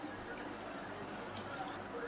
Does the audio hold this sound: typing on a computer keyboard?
no